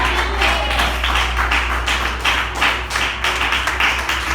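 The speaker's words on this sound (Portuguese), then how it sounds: "dando uma salva de palmas para Jesus" A church congregation claps for Jesus after a prayer, a steady, loud run of hand claps in a fairly even rhythm, with a low hum underneath and no talk over it.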